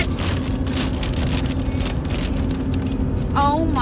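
Bugs falling from the sky like rain, a dense continuous patter across a surface with a steady low rumble beneath, loud and close, with a voice heard briefly near the end.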